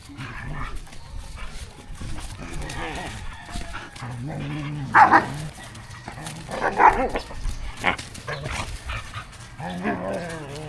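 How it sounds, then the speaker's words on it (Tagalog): Several dogs play together outdoors, letting out scattered barks, yips and whimpers at close to middle distance, mixed with people talking throughout. "Hinayaan ko muna siyang makipaglaro kina Paraluman, Alamid, Asmus at sa iba pang mga asong gubat."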